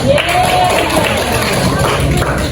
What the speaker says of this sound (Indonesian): Beri tepuk tangan kita semua.